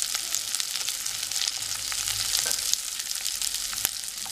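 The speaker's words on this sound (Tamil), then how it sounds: "பச்சை மிளகா இதெல்லாம் சேர்த்து நல்லா வதக்கிக்கலாம்." Onion, garlic, ginger and green chili sauté in a pan for a spicy potato curry, a steady close sizzle with faint stirring clicks throughout.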